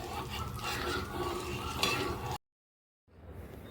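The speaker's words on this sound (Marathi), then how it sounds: "त्यामुळे थंड होई तोपर्यंत आपण हलवत राहायचं आहे." Hot ghee is stirred in a pot with the gas turned off, giving continuous close scraping and swirling noise that cuts abruptly to silence, followed by a quieter, different background.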